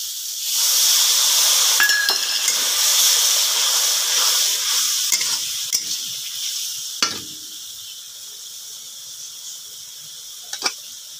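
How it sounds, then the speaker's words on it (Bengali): Water goes into a sizzling pan of Bengali fish curry and bursts into a loud hiss of steam that slowly fades, with a few sharp clinks of a utensil against the pan afterward. "এবার আমি দিয়ে দিব একটু জল"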